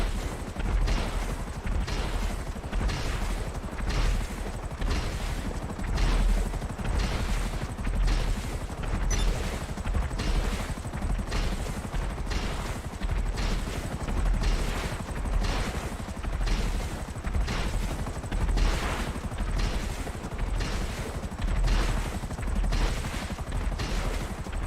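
Missiles firing and exploding in GTA Online, a rapid, regular barrage of blasts roughly every second that continues without pause, loud and close with no talking.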